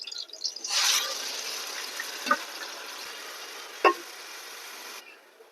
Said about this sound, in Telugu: ఫిష్ కర్రీకి ఇలా నూనెలో ఏగితే బాగుంటాయండి. పచ్చిమిర్చి, అలాగే ఉల్లిపాయ పేస్ట్ అండి.